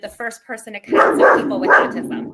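A dog barks a few times close by in an indoor setting, short sharp yaps at the start, before a person's speech takes over and continues without further barking.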